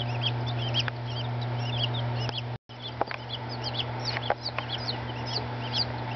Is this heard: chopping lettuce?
no